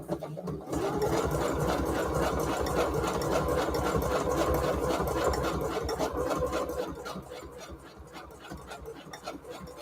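A sewing machine stitches lace in a steady rapid mechanical chatter for most of the stretch, close and clear, easing quieter toward the end.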